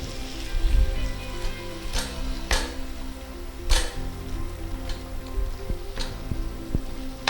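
Garlic, potato and tomato masala sautéing in a pan gives a soft, steady sizzle with a few sharp clinks and scrapes of a utensil against the pan, low hum underneath, no talking.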